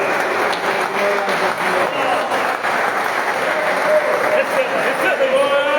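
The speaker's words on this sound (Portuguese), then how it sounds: "Dá uma salva de palmas" Audience clapping at a live preaching service at Atitude Alphaville, a loud steady wash of many hands mixed with voices and music, with a speaker talking over it throughout.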